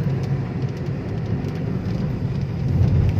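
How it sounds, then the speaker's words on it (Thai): Rain starting to fall outdoors, heard as a dense, steady hiss and patter that swells slightly toward the end, mixed with low rumbling background noise and no talking. "วิ่งอยู่นี่ฝนมาตกอ่ะ"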